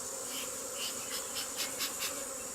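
Honeybees stirred up after their hive frame is tapped during an inspection, a dense, steady buzzing swarm close by with slight surges in intensity, no voices.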